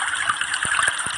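Trickling, flowing water heard alone and close, a steady bright babble with small splashes and gurgles running continuously throughout.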